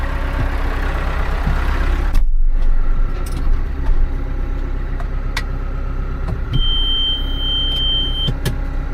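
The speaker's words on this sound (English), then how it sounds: "You don't forget the handbrake on, I think, very easy with this one. Pretty loud beeping." A car's handbrake warning beeps loudly inside the cabin with the handbrake left on. A sustained high tone starts partway through, with short beeps at intervals over engine and road rumble.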